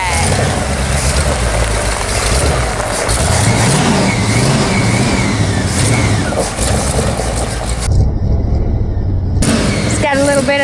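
A classic milk truck pulls away with its engine revving and running loud and steady close by, ending in a rough mechanical whine, with people talking over it.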